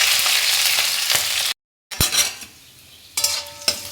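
Ginger and green chilli fry with panch phoron spices in hot oil, producing a loud close sizzle with sharp clinks of a utensil against the pan. A brief silent gap splits it before the frying resumes more quietly.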